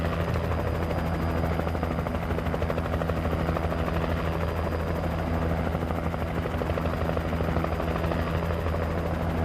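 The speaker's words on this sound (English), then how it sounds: "It's mainly the Ravens and the Choppers because they're loud." A helicopter in the Alan Wake video game passes overhead with a steady, loud rotor thrum and engine roar that holds unbroken throughout, with no voices.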